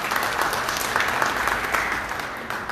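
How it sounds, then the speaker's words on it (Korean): Sustained applause from a seated audience at an expert panel discussion in Cheongju, welcoming a lawyer to the stage; a dense, steady wash of clapping hands filling the room, even throughout with no voices on top. "박수로 환영해 주시기 바랍니다."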